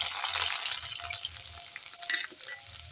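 Chopped garlic hits hot oil already holding dried red chillies and whole garam masala spices for soya chilli, giving a steady close sizzle and crackle with faint watery stirring sounds, no talk.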